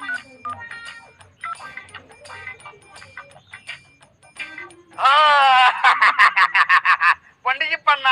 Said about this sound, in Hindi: हां तो पंडित जी के फोन लगाओ